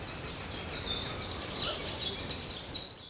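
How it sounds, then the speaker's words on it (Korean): A Japanese bush warbler sings in Dongbaek Dongsan forest on Jeju, with a run of quick, high, warbling notes repeating over a steady background of other birds and forest ambience. "이거는 섬휘파람새입니다. 섬휘파람새의 노래입니다."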